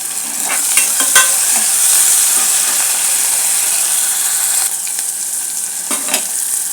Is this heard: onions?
yes